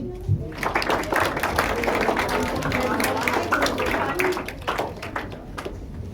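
An audience at a financial education talk claps for a group, a sustained patter of many hands that tapers off toward the end, with some voices murmuring.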